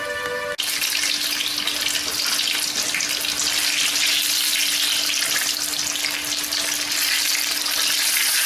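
Chilli bajji coated in gram flour batter fry in hot oil, a loud, dense, steady sizzle that starts abruptly after a brief tone and continues unbroken, with no voices.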